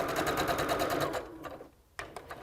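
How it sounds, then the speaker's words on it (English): A sewing machine stitching a fabric tube with yarn tucked in the crease, its rapid, even mechanical chatter running steadily and close, then slowing, pausing briefly and starting up again. "and then I can sew a little more"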